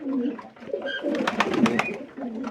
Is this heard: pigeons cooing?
yes